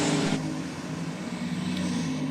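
A turbocharged LS V8 ute with a Turbo 400 gearbox gives a steady, throaty engine roar on a race track, droning at a constant level throughout, with a brief louder hiss at the start.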